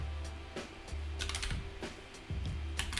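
Keys on a computer keyboard clatter in short, irregular bursts of quick clicks, fairly close and quiet, with brief pauses between the runs of typing and no talking.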